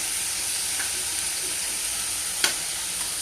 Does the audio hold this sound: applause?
no